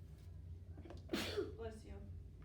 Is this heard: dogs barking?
no